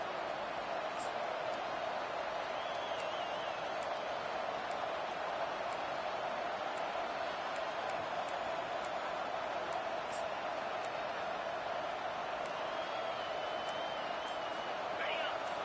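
A stadium crowd at an American football game keeps up a steady, distant roar that stays at an even level throughout, with no distinct claps or cheers standing out.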